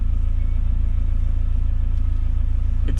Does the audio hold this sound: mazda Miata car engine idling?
yes